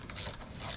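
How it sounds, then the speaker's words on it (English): Ratcheting clicks from a small 10mm socket wrench loosening a car battery terminal on a Ford Territory, two quick bursts of close, crisp pawl clicking with no talking. "a little 10mm socket set is ideal for disconnecting the battery"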